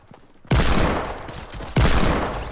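Two loud Desert Eagle shots in the Fortnite video game, each a sharp blast at the start with a long, dense reverberant tail that fills the space, the second landing about a second after the first.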